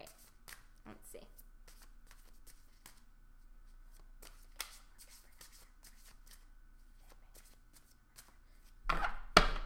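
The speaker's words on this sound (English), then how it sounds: "one more shuffle, guys" Tarot cards shuffled by hand in a series of quick, soft riffling bursts, closing with a louder, denser shuffle.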